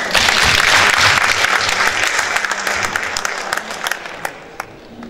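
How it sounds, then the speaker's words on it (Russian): Loud, dense audience applause for a psychologist's talk at a pedagogical centre, strong at first and thinning toward the end with scattered claps. "И я хочу эти аплодисменты поставить вам."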